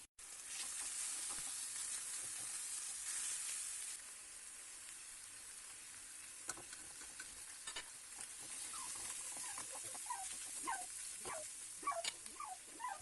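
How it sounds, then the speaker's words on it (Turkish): Minced meat with browned, sautéed onions sizzles loudly in a pan, a bright steady hiss that softens after a few seconds, then gives way to scattered pops, crackles and occasional stirring scrapes. "Şimdi hemen soğanlar güzelce kavrulduktan sonra kıymayı ilave ettim."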